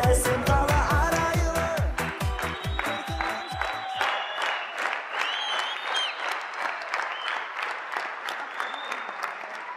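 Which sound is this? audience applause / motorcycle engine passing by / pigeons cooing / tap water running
audience applause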